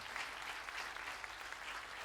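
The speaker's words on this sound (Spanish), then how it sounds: "déle el fuerte el aplauso al Señor" Steady applause from a church congregation during a sermon, heard fairly faint and distant, holding an even level throughout.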